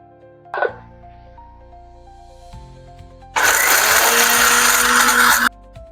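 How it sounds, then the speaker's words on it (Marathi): A kitchen mixer grinder whirs loudly for about two seconds, grinding grated dry coconut into powder, after a brief clatter and low background hum. "मिक्सर पॉटमध्ये हे जे आपण खिसून घेतलेलं आहे खोबरं त्याला घालूया"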